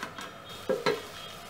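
Kheema (minced meat) cooking in a pan, a soft constant sizzle broken by two brief scraping stirs near the end.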